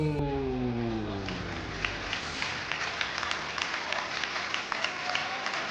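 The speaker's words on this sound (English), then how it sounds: "give a round of applause for" Crowd applause and cheering at a Levels Fight League MMA event as heavyweight Matusalem dos Santos enters for the main event, a broad steady roar of clapping with scattered sharp claps, after a brief tonal sound at the start.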